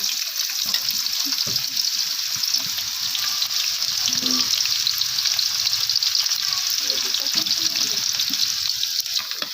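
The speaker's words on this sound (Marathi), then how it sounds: "तेल आपल्याला चांगलं गरम करून घ्यायचंय आता हा कांदा भाजून घ्यायचा" Chopped onion sizzles in hot oil while mutton dry curry and gravy are cooked, giving a steady, close frying hiss throughout with faint stirring knocks underneath.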